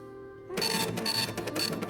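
A 3D printer's sounds imitated by a voice or device: bursts of dense rattling, whirring noise starting after a quiet moment, with repeated higher chirps, close and moderately loud.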